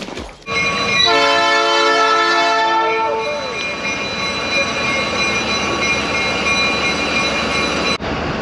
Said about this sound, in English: Let's watch this train go past.